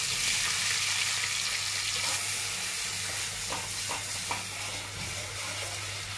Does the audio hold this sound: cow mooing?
no